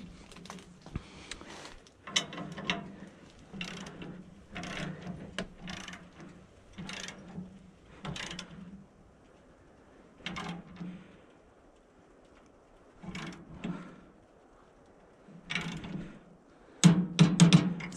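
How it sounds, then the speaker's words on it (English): A torque wrench tightens the bolts on a Woodland Mills portable sawmill. Close, intermittent ratcheting clicks come in short bursts separated by quiet pauses, with no talking. "Let's get the torque wrench. Torque her up."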